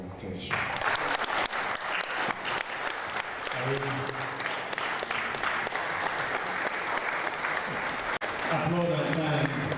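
An anniversary gathering audience claps in a dense, sustained burst of applause that fills the room, with voices and a loudspeaker announcement carrying over it.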